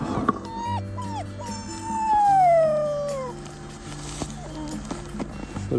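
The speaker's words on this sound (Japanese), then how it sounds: "それ遠吠え？" A pet dog howls in a home, long rising and falling wails with whimpering yips in between, close and fairly loud, with people talking softly in the background.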